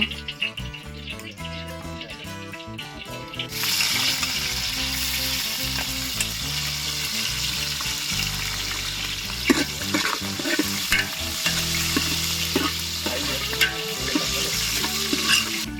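Food frying and being stirred in a pot during an outdoor cooking feast at a village temple gathering, with a steady loud sizzle and scraping stirs that continue throughout after a musical opening.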